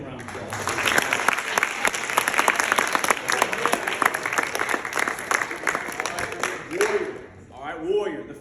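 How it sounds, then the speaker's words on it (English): Track team at a Christian academy giving a dense, loud round of applause for several seconds, tapering off near the end as a voice speaks. "Give him a round of applause."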